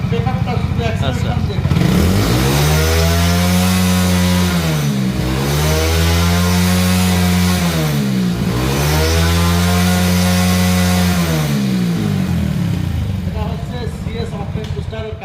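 A vehicle engine treated with octane booster runs loudly right after starting, revving up and down in three repeated sweeps before settling back, heard close by.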